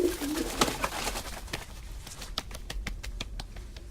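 Pigeon or dove cooing amid a western film scene, soft repeated coos near the start followed by a series of sharp pattering clicks, moderately close.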